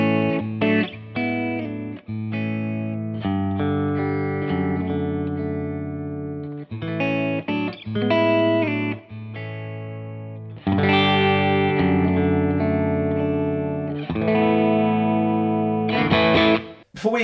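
Redplate HD50R Dumble-style guitar amp plays a sustained, smooth overdriven guitar passage of chords and lead lines, loud and close with light effects and no talking.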